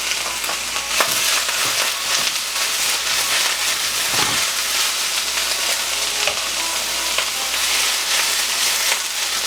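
Blanched vegetable frying in a pan on a cooktop, a steady loud sizzle with occasional stirring scrapes throughout, no talking.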